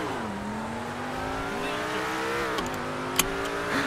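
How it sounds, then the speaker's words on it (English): A Lamborghini V12 in a racing video game revs steadily at close range, its engine tone rising and falling through gear changes, with a brief skid-like burst near the end and no talking over it. "This is a loud V12 right here, boys."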